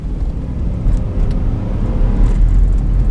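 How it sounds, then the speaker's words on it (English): A 2003 Chevy Avalanche crew cab 4x4 with a 5.3 liter Vortec V8 is heard from inside while driving, giving a steady low road and tire rumble with a faint engine hum and occasional small rattles. "There is some tire noise."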